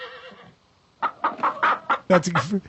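A voice imitates a guinea hen call, a run of loud, harsh clucking squawks after a brief pause, close and alone.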